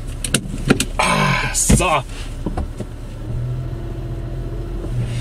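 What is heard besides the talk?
car starting off and driving in reverse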